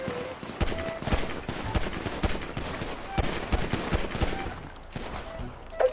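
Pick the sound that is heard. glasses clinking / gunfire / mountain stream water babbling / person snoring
gunfire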